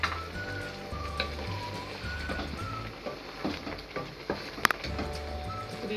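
Tandoori chicken leg pieces sizzle and fry in a pan, a steady crackling hiss with small pops and a few sharper clicks, fairly close and alone without talk.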